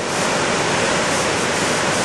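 Lepreau Falls in New Brunswick, with water pouring over a cliff, makes a loud, steady, unbroken roar that fills the whole moment, with no talking.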